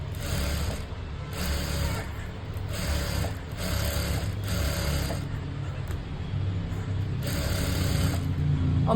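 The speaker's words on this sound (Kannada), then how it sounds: "ಇದನ್ನು ಎಡ್ಜಿಗೆ ಸ್ಟಿಚ್ ಹಾಕ್ಕೊಂಬಿಡಿ ಎಡ್ಜಿಗೆ ಆದರೂ ಒಂದು ಪಾಯಿಂಟ್ ಬಿಟ್ಟೆ ಹಾಕೊಳ್ಳಿ" A sewing machine stitches lining onto a ready-made sleeve border, running in short bursts with a rhythmic mechanical whir and clatter, pausing briefly between runs, close and fairly loud.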